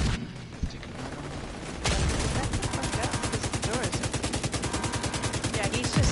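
Rapid automatic gunfire in The Division 2 during the Iron Horse raid, starting with scattered shots and then a dense, steady burst of repeated loud rounds lasting several seconds, with mechanical clatter.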